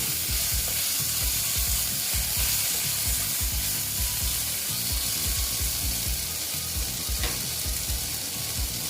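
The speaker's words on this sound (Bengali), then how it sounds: "টমেটোগুলো দিয়ে দিচ্ছি দিয়ে আবার আমি এটার সঙ্গে ভালো মতন ভেজে দিচ্ছি" Tomatoes frying with small fish in a pan make a steady, close sizzle with soft stirring scrapes throughout, and no one speaks.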